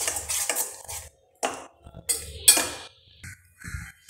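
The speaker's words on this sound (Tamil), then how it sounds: "இப்போ இதெல்லாம் சேர்த்து நல்லா மிக்ஸ் பண்ணிக்கலாம்" Boiled eggs being mixed with masala, salt and lemon juice in a bowl, giving bursts of scraping and clinking utensil sounds in short irregular strokes with brief pauses between them, close up.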